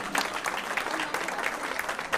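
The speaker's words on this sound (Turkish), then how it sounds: "Bir alkışla alıyorum damat bey için." Wedding guests applaud the groom with a steady burst of clapping from a crowd, fairly close and dense throughout.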